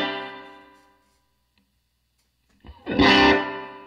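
Electric guitar run through a Greenchild Striker pedal with slapback delay: a sustained chord rings and fades to silence, then a fresh, loud, bright strum enters with a quick doubled repeat.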